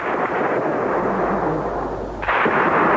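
Gunfire and artillery shelling in the centre of Tbilisi during a rebel assault: a continuous low rumbling roar with a heavy boom near the end, loud and echoing, no voices.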